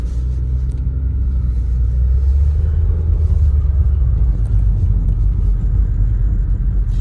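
A Subaru WRX with a CVT driving in sport mode, heard from inside the cabin as a steady loud low engine and road rumble, with no voices.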